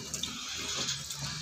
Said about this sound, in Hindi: ऊपर से ही डालना है पानी।